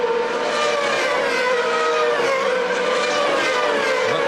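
Formula 3000 race cars at Monza in 2003, engines screaming loudly and continuously with rising and falling pitch as cars pass near, no talk over the sustained roar.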